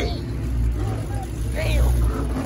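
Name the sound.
car engine with nitrous at street car meet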